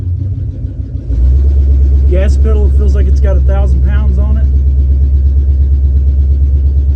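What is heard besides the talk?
1983 Chevrolet K5 Blazer engine with open header driving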